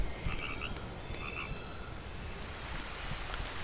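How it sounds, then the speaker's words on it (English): A small frog croaks in a game world with a soft, steady outdoor ambience, a few faint chirping croaks early on and then fading into the background hiss. "Cute, little frog."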